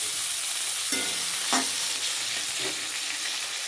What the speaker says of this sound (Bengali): বেগুনগুলোকে ভেজে নেব আমি মানে বেগুনটা পুরোপুরি ভাজা করব না এই সিক্সটি পার্সেন্ট মতো ভাজা করব